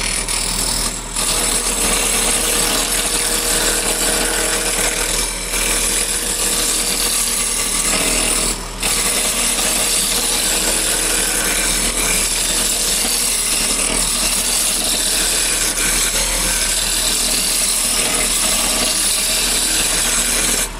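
Wood spins on a lathe as a turning tool cuts into it, a loud, continuous close-up roar of cutting and scraping that holds steady throughout with only a couple of brief dips.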